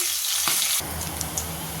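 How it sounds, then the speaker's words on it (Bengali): A fish head frying in hot oil gives a loud, steady sizzle that jumps sharply louder partway through, crackling close by with no talk. "ততক্ষণ মাছটাকে আমি ভাজতে থাকবো"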